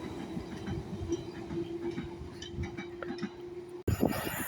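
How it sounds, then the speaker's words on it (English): A London Underground 1972 stock train passes at a station, with rumbling wheels, rhythmic clicks over rail joints and a steady tone, ending in a sharp cut to a louder, closer burst of rail noise. "1972 stock to Elephant and Castle from Harrow and Wealdstone."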